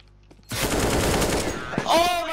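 Rapid automatic gunfire from a player running and shooting in Counter-Strike, a loud close sustained burst lasting nearly two seconds, followed by a brief ringing tone and a short faint voice.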